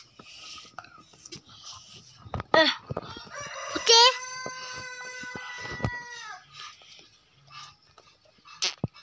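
Rooster crowing with several long harmonic calls mid-clip, amid dog barks and scattered chicken clucks, outdoors on a family farm in Sikkim while chickens are let out; faint background voices.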